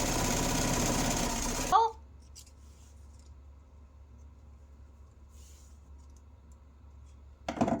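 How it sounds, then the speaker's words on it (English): A sewing machine runs steadily for just under two seconds, stitching the seam of a beginner's fall leaf wreath pillow cover, then stops, leaving a quiet room hum and a few faint clicks. "And now we stitch all the way down."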